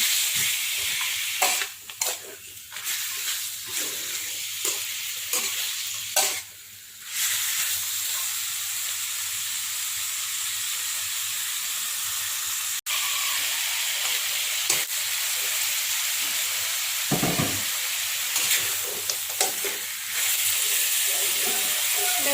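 Chicken curry with pickled mustard greens and wood ear mushrooms bubbles and sizzles in an uncovered wok, a steady close hiss with occasional stirring clatter, Tai Lue style home cooking.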